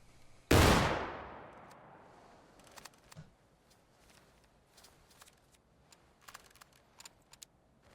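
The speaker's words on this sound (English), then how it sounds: "Rear rank, take aim. Fire." A single loud musket volley from a rear rank in the Civil War game War of Rights, booming once and ringing off, followed by faint clicks and scattered distant shots.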